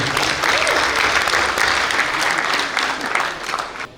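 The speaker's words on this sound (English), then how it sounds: "a massive round of applause please" Sustained applause from a large crowd at a Pakistan Independence Day celebration in a hotel, steady dense clapping for several seconds that tapers slightly at the end.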